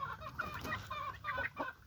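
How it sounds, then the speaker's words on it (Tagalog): Soft, repeated clucking from a chicken, a steady run of short low calls with faint farmyard noise in the background. "Ito ang alaga kong manok guys."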